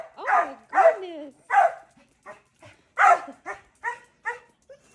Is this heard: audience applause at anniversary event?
no